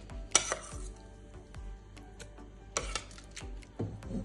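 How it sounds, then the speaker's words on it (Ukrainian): Clinks and clatters of utensils as cooked vegetables for pumpkin soup are moved into a blender bowl, a series of irregular knocks and scrapes, close and fairly quiet with no talking. "Після того, як овочі зварились, я їх перекладаю в чашу для блендера"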